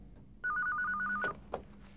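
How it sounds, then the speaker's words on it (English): A telephone rings with a warbling electronic tone in one long burst of rapid pulses, fairly clear against a quiet room, followed by a brief click after it stops. "9:04 a.m. the phone rang"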